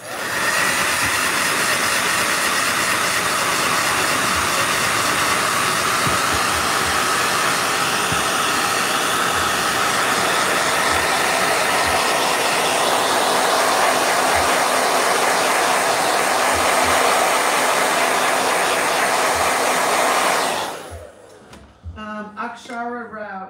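A blow dryer runs steadily for about twenty seconds as a loud, continuous airy roar, then cuts off abruptly and a voice begins talking.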